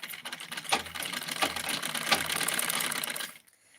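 A household sewing machine stitches steadily for about three seconds with a regular mechanical whir, then abruptly stops.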